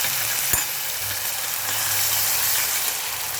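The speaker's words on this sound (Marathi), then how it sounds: "यानंतर आपला हा वाटलेला मसाला याला आपण परतून घेऊया." Ground masala for matar paneer sautés in a hot pan, giving a steady broadband sizzle with an occasional faint clink of stirring and no talk.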